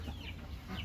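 Farm chickens that are laying eggs cluck softly in a short, faint burst, with a couple of quick clucks over a low background.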